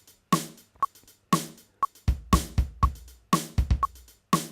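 Two-bar rhythm pattern programmed in the PolyNome metronome app, with sharp repeated clicks and accented hits including quick sixteenth-note pairs, cycling through the pattern alone without any talking.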